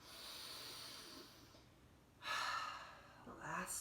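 A person exhales audibly through the mouth during a guided floor exercise, a soft breathy rush that swells and fades, followed by a second shorter breath, with quiet room hiss underneath.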